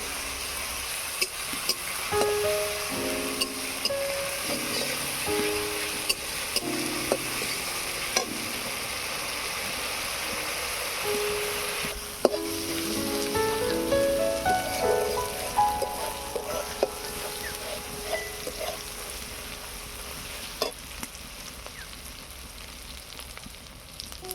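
Ginger, garlic and onion paste fries in a pan with a steady broadband sizzle, interrupted by repeated scraping and clattering as a spatula stirs it against the metal. The sizzling grows busier and more crackly toward the middle.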